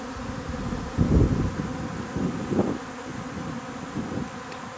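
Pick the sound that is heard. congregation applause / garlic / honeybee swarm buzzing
honeybee swarm buzzing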